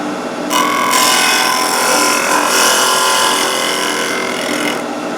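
A safety planer mounted in a drill press cuts across a wooden workpiece, giving a steady, loud whirring and scraping that rises in short surges, close by and with no talk.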